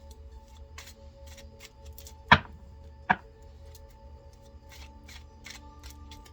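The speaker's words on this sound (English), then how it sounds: "Okay, I'm shuffling." Tarot cards shuffle quietly in soft riffling bursts, with two sharper snapping clicks close by against a low background hum.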